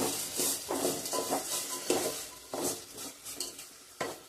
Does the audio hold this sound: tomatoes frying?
yes